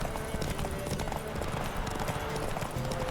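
Galloping horse hooves in a Witcher 3 horse race, a steady rapid clip-clop running throughout at even loudness, with a brief whinny and faint game ambience underneath.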